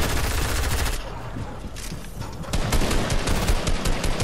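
Heavy automatic gunfire in Fortnite, a dense, loud stream of shots that briefly thins out in the middle before intensifying again, with faint game noise underneath.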